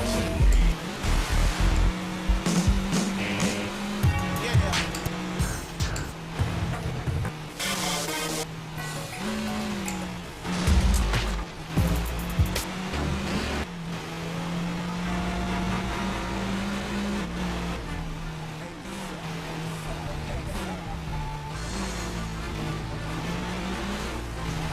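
Engine roar from a car racing in the PS2 game Midnight Club 3: DUB Edition, loud and continuous with a droning pitch that shifts up and down, and a few sharper bursts early on.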